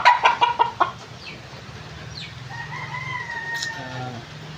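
A fighting rooster crows close by, followed by a drawn-out crowing call, with no one speaking.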